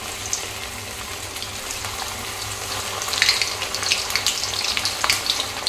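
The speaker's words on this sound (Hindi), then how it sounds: "तो देखिए तेल गरम हो गया, इसमें जाएगी पनीर की पीसेस।" Paneer pieces fry in hot oil for chilli paneer, giving a steady, close hiss and crackle that grows busier and brighter partway through, with no voices.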